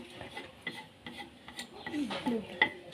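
Spicy mushroom chili dip is scooped from a pot with a spoon, giving soft scraping stirs and light clinks of utensil on cookware, close and moderately quiet with faint voices in the background.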